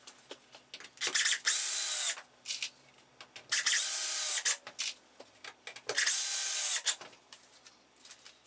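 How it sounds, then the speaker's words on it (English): A power drill whirs through wooden test blocks in three loud bursts, each about a second long, separated by pauses with small clicks and handling sounds. "I'm now going to drill the test blocks."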